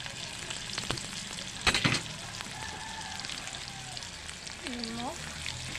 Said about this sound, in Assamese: আলু ভাজি